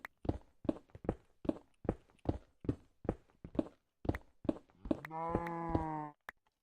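Minecraft footsteps plod in a steady rhythm, followed by a single drawn-out cow moo near the end; quiet and close, with no talk.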